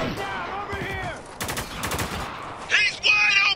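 Heavy automatic gunfire in the video game Spec Ops: The Line, with loud bursts of rapid shots and sharp cracks in close succession, layered under voices talking.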